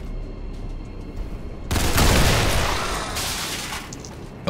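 Gunfire in XCOM 2: a quiet background gives way to a sudden loud burst of shots with a booming, explosive body that slowly fades, followed by a brief second sharp crack at the end.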